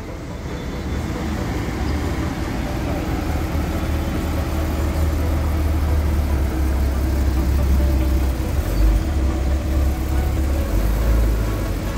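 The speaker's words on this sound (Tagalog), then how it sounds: "paalis na yung Porsche, classic Porsche" A classic Porsche pulling away at a Cars and Coffee car meet, its engine a loud, steady low rumble over the background hum of the event.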